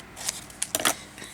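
Scissors snip through paper while an envelope flip pocket is made, giving a few quick, close crisp cuts in a short cluster, with quiet pauses between them.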